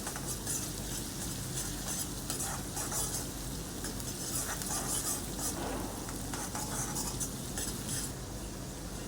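Onion and ginger-garlic paste fry in oil in a pan, giving a steady close sizzle throughout with light stirring and scraping of a utensil.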